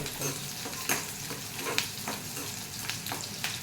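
Onions frying in a pan over full flame, a steady soft sizzle with repeated scraping stirs of a spoon against the pan, close and moderately loud.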